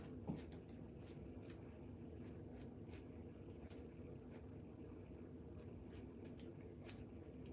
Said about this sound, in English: Get these little scissors.